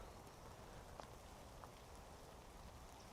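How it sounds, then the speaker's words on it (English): Steady outdoor rain in the Yorkshire Dales, a dense, even hiss of drops on foliage and ground with a few sharper drip ticks, continuous throughout with no voices. "It is still raining though."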